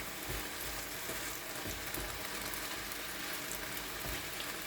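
Beef and broccoli tossed in a hot frying pan, an even close sizzle broken by a few soft thumps and rustles as the food lands, no voices.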